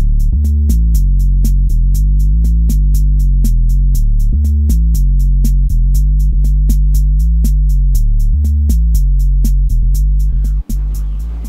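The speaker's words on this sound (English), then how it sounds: "What I use is just a cutoff wheel and be very careful not to pierce this inner one." A cutoff wheel trimming the steel braid on a PTFE-lined AN hose makes a loud, continuous droning whine with a rhythmic throbbing pulse, briefly dipping near the end.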